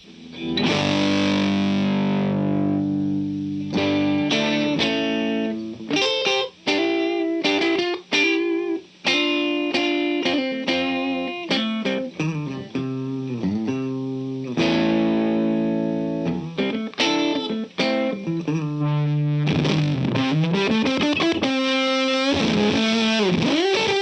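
Distorted electric guitar through a Cachalote Audio 214 Fuzz pedal into a dirty amp plays loud, buzzy riffs and sustained notes with a thick, saturated tone, close up and continuous.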